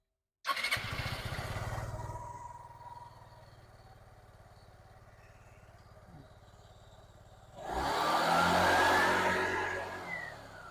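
A Kymco Like 125 scooter's small engine catches and idles with a steady low drone, then revs up louder near the end; no talking.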